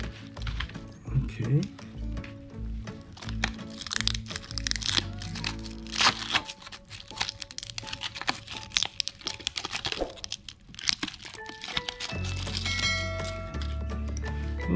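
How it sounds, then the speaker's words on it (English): SanDisk iXpand drive packaging being cut open and unboxed, with dense crinkling, crackling plastic and cardboard, snips and small clicks close up, while a person speaks briefly. "Oh, this is difficult to take out, so I need to cut again."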